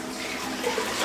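Chicken broth pours into a crock pot as a steady, close splashing flow of liquid lasting about a second.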